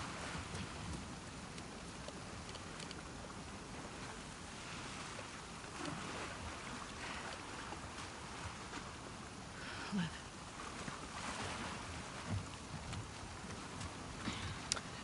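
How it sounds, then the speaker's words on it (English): Steady rain falls around a small boat being rowed on open water in The Last of Us Part II, a dense, even patter with faint water movement underneath throughout. "Get out of the rain."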